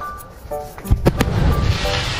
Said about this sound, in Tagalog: Ayan na guys, kita fireworks.